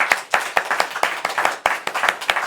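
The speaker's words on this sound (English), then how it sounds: "she really does deserve a round of applause" A small audience at a book launch claps, sharp separate hand claps in a quick uneven rhythm, close and fairly loud, with no talking over them.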